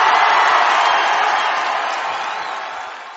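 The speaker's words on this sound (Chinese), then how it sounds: "给大家一个欢呼声。" A short burst of crowd cheering, played as a canned effect during a live radio-style show: a broad, continuous roar of voices that slowly fades over a few seconds.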